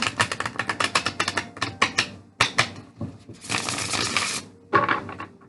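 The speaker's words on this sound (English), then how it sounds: "One more shuffle" A deck of oracle cards being shuffled in a series of quick riffling flicks and snaps, then a longer continuous riffle and a final short burst, close and fairly crisp with no talking.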